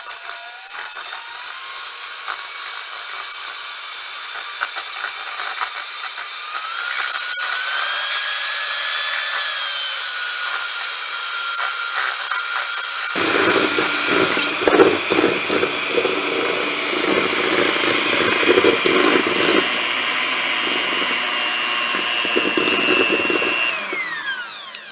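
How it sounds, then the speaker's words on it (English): An electric mixer whips cream with a loud, continuous high-pitched motor whine whose pitch drifts as the speed changes, shifting abruptly partway through to a harsher, fuller grinding whir, close up with no talking. "we're just whipping this cream first because I don't want to cross-contaminate quite yet"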